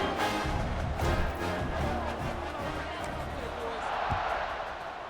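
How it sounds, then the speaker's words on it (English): A stadium crowd in College Football 26 on Xbox Series X, Kennesaw State vs. Wake Forest, keeps up a steady, dense roar beneath a commentator's continuous talk. "this crowd is buzzing after that last score"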